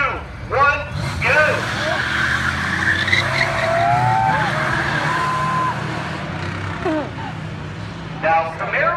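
A Camaro and a truck race on a four-mile speedway track, tires squealing and skidding in drawn-out chirps over a steady engine roar, with a crowd and an announcer talking throughout.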